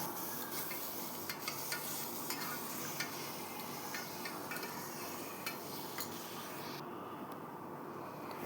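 Chopped tomato sizzling in hot oil in a pan while mutton kulambu is cooked, a steady soft frying hiss with occasional light scrapes and stirs of a utensil, fairly faint and with no talking.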